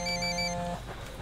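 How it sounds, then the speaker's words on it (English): A phone in Ghost Recon Wildlands rings with a steady electronic tone for under a second, then cuts off abruptly, leaving low ambient noise. "I hear a phone. Phone. That's no IED. It's ringing too much."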